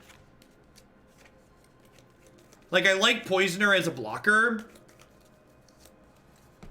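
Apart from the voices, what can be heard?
shuffling extended art basic land cards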